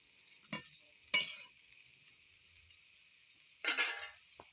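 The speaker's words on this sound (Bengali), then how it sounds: "সবজিগুলো ভাজা লাগছে।" Vegetables fry in a pan for khichuri under a soft, steady sizzle, broken by three sharp scraping stirs of a utensil against the pot, close and fairly quiet.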